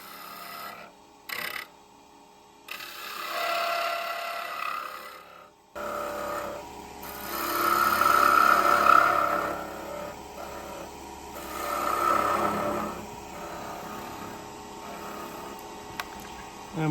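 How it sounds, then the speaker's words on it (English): A small spindle gouge takes light cuts on wood spinning on a lathe while a peppermill top is shaped, giving a steady rasping hiss that swells and fades over a constant motor hum. "So I'm switching to a smaller spindle gouge."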